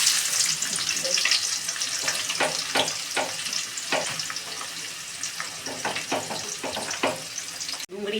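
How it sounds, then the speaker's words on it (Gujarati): Onion fries in hot oil in a pan for pulao, giving a close, continuous crackling sizzle broken by repeated scraping stir strokes. There is a brief dropout just before the end. "ડુંગળી શેકાઈ ગઈ."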